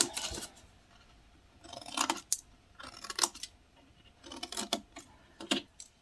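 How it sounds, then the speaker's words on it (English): Scissors snipping into card along score lines, several short bursts of crisp cutting separated by quiet pauses, close and clear with no talking. "Just cut into the score lines, and then take them out like so."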